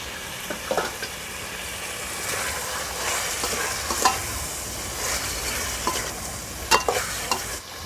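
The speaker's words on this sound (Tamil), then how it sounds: "சிக்கன் நல்லா வதங்கினதுக்கப்புறமா தக்காளி சேர்த்துக்கலாம்." Chicken and tomato sauté in a village-style pan for chicken gravy, giving a steady hiss broken by repeated clinks and scrapes of a stirring spoon.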